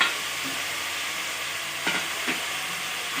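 Potato pieces frying in a pan for chicken pulao give a continuous close sizzle, broken by a couple of brief scraping stirs near the end.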